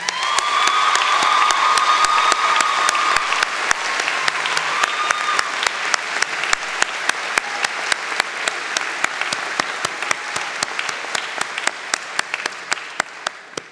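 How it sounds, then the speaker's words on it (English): A university convocation audience applauds the stage party, a full sustained roar of many hands that gradually thins into distinct scattered claps, with faint crowd voices and a whoop early on. "Please join me in a round of applause acknowledging them"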